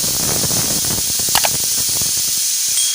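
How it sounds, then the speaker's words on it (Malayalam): A pressure cooker boiling sprouted green gram for a sweet pudding gives off a continuous loud hiss of escaping steam, harsh and unbroken, with faint irregular rattling underneath. "എളുപ്പത്തിൽ വെന്ത് കിട്ടാൻ വേണ്ടിയിട്ട് ഞാനൊരു കുക്കർ എടുത്തിരിക്കുന്നതേ ഉള്ളൂ."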